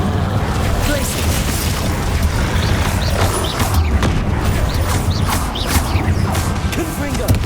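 Glacius ice spell being cast in Hogwarts Legacy, loud crashing and crackling bursts amid dense, continuous combat noise, with talk running over it.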